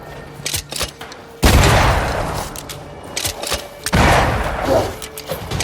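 Gunfire erupts in the video game Banishers: Ghosts of New Eden, with two loud, sustained volleys of rapid shots and booms, each starting abruptly and close, amid game sounds.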